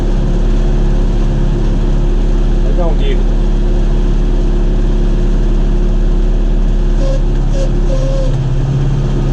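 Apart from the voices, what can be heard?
John Deere 5101 tractor engine driving through mud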